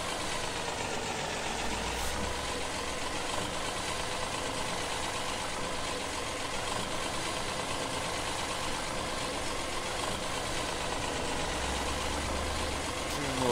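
A John Deere tractor engine idles on a farm where bales are being moved, a loud, steady, close diesel rumble that holds evenly throughout, with a person talking over it.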